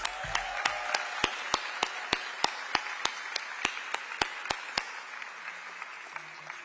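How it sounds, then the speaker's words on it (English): Audience applause at an outdoor Olympic flag installation ceremony at Los Angeles City Hall, with a crowd clapping steadily at moderate distance and sharp individual claps standing out, tapering off toward the end. "Give them a round of applause."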